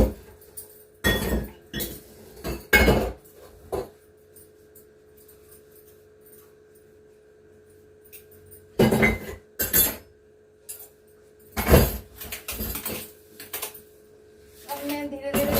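Dishes and cutlery handled in a home kitchen, with clusters of clinks, clatters and scraping of metal and glass coming in irregular bursts separated by quieter stretches, close to the listener.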